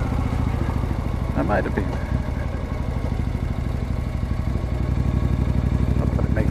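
A 1972 Moto Guzzi Eldorado motorcycle riding a gravel road in Eastern Ontario gives a steady low engine thrum with rhythmic pulsing, while someone speaks briefly over it.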